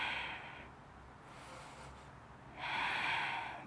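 Heavy breaths during a floor exercise workout, two loud, close exhalations separated by a quieter inhale, with no speech.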